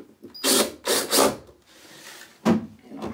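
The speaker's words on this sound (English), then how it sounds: "Now I'll take my drill, slowly put these screws back in." A power drill whirs in several short bursts, slowly driving screws into a 4x12 guitar speaker cabinet, pausing between runs, close and fairly loud with a grinding, rasping edge.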